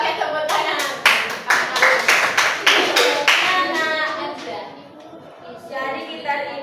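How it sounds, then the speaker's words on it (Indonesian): A classroom of primary-school children claps in a rhythmic pattern of sharp, distinct beats that break off into scattered claps, with children's voices chattering underneath. "Ya, oke, tepuk tangan."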